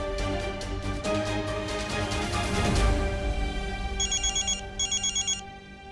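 A phone rings for an outgoing call, its electronic ringtone sounding in two short repeated bursts toward the end over a steady musical background.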